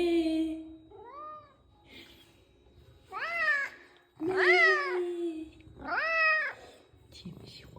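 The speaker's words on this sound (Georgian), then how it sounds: "მეჟობლის კატა ეჭვიანობს და კარებთან ატირის ხოლმე" A neighbour's cat meows at the door, several drawn-out rising cries in a row, close and loud, with quiet pauses between.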